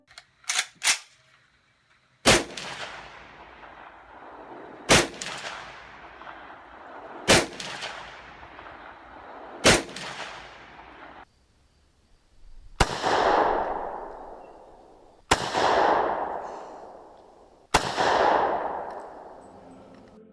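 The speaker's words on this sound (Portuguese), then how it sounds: "para quem nunca ouviu um G43 disparando na vida real, o som é esse aqui" A Gewehr 43 rifle fires a string of about nine loud, sharp shots spaced a couple of seconds apart. The earlier reports are tight cracks, and the later ones boom with long echoing tails.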